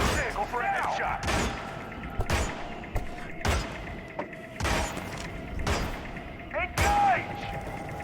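Gunfire in the Hitman (2016) video game, Colorado level: loud, sharp shots recur about once a second across the stretch, each a broad punchy crack, with mechanical clatter and voices talking between them.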